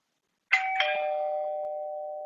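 A two-tone ding-dong doorbell chime is played back for an iPad to recognise, a clear, close electronic bell that strikes twice and then rings out in a long sustained tone.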